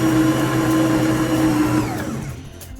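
A machine kneads whole wheat bread dough with a steady loud motor whir and hum that winds down toward the end.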